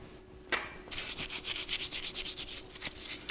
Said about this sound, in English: And I rub that when it's dry herbs.